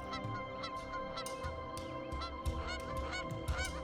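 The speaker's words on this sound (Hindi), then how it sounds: "बार हेडेड गीज हिमालय की ऊंचाइयों को लांघती हुई लंबी दूरियां तय करके गर्मियों में प्रजनन के लिए यहां आती हैं।" Bar-headed geese in a high Ladakh wetland honk again and again in a busy, overlapping chorus, loud and close, with no voices.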